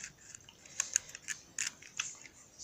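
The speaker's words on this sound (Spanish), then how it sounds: "con unas tijeras con mucho filo, corto por los lados de la botella" Sharp scissors slice along the sides of a plastic bottle in a quiet room, giving a series of faint, crisp snips and crackles spaced irregularly.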